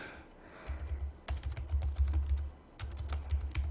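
Typing on a computer keyboard in bursts of quick, close clicking key taps over a low steady hum, with no speech.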